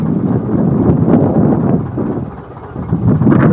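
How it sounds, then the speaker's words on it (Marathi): Strong wind buffets the microphone aboard a fishing boat on the open sea during dol net fishing, a loud, continuous low roar that swells and briefly eases midway. "वारा बघा"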